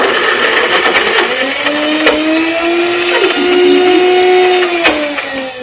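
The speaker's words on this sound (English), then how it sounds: "So I'm going to mix that together in my NutriBowl." A NutriBowl blender whirs steadily, mixing fruit and vegetables, a loud continuous motor drone that holds for several seconds with slight pitch shifts as the load changes, with no voices.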